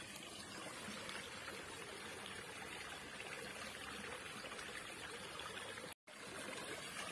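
Clear, spring-fed river water flowing through a forest, a faint, steady trickling rush with no voices and a brief break in the sound near the end.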